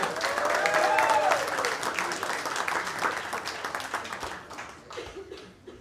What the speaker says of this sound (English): don't you stop clapping